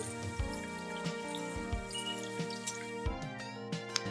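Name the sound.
washing oxtail meat with lemon under running water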